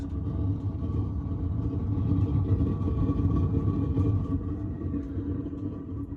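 A waste oil burner firing on oil, giving a steady low roaring rumble that holds at an even level for the whole stretch, with no talking.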